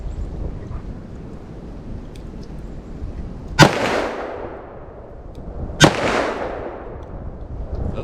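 .357 Magnum revolver firing Underwood Xtreme Defender ammunition outdoors: two loud, sharp shots about two seconds apart, each with a booming echo that trails off over a low, steady background rumble.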